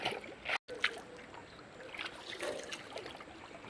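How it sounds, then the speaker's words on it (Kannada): Water is poured out during a small outdoor ritual, a soft, fairly faint trickling splash that runs on steadily after a brief cutoff near the start. "ಇವಾಗ ನೀರು ಹಾಕ್ತಿದ್ದೀವಿ."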